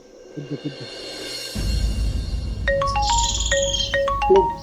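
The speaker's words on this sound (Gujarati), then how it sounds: "કોકનો ફોન આવે" A mobile phone ringtone plays a bright, repeating electronic melody, loud and close, over a steady rumbling background, with no talk.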